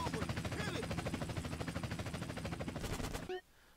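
Rapid automatic gunfire in GTA San Andreas Definitive Edition on Xbox Series X, a dense rattling burst lasting over three seconds before cutting off abruptly, with game sounds and voices mixed in.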